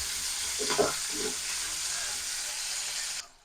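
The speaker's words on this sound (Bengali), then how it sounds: "এগুলোকে খুব অল্প আঁচে ভাজবো, যাতে এগুলো কালারটা পাল্টাবে না, ভেতর থেকে সেদ্ধ হয়ে যাবে।" Chicken pieces frying over low heat in a wok, a soft, steady sizzle with a couple of brief stirring scrapes, then a sudden cutoff.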